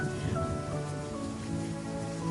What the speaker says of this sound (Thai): เสียงร้องเรียกแผ่วเบาหายไปในสายลมและเสียงฟ้าร้อง เจ้าหมูน้อยยืนมองทางที่พวกเขาจากไปน้ำตาไหลพรากปนกับเม็ดฝนที่เริ่มโปรยปลายลงมา